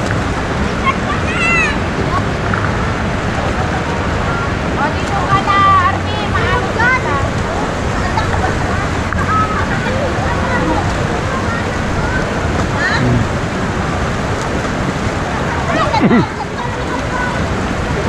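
Strong river current and waves rush and churn steadily at close range, with wind buffeting the microphone and people talking over the water throughout.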